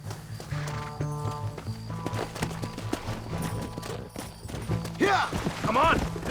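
Horses gallop in Red Dead Redemption, their hooves a rapid drumming clip-clop under shouted voices, with a neigh or whinny breaking through near the end over a background of music.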